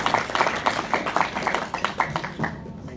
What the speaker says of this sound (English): a big round of applause for Forte as he comes to the stage